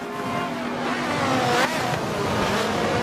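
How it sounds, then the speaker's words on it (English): Race car engines in a Forza 7 game race, a Trans Am chasing a Ford Focus, drone steadily at high revs with a rising pitch sweep as a car pulls closer. "The white Trans Am car is still trying to keep up with that Ford Focus"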